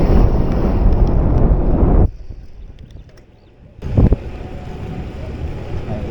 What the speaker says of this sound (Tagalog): Sa mahangin dito.